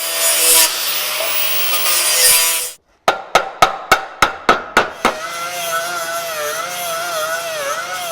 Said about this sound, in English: we're going to get in with a hammer and kind of knock it around